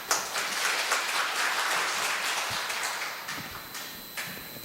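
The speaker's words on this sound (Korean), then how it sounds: "큰 박수 부탁합니다." A church congregation at a Sunday Mass claps together, a moderate wash of applause that slowly fades toward the end, with a few sharper claps and some shuffling.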